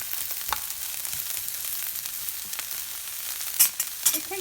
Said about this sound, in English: So we're just going to stir it around. Let that cook down a little bit.